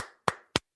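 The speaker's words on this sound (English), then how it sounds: "Let's give them a round of applause" Three sharp, isolated hand claps ring out, evenly spaced and close by, each decaying quickly into silence, in place of a full round of applause for a college women's basketball team.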